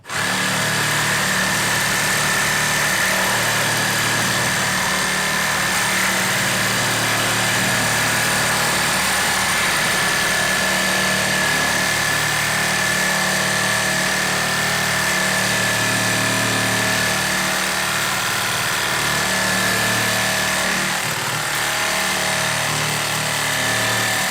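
A Makita reciprocating saw runs steadily at its lowest speed setting, cutting for about 24 seconds with a continuous, loud, buzzing motor drone and no pauses or voices.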